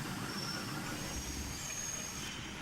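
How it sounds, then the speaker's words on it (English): A slow goods train departs, its wheels rumbling steadily along the rails with a thin high squeal running over the continuous low roar, moderately loud throughout. "James departed with his slow goods train"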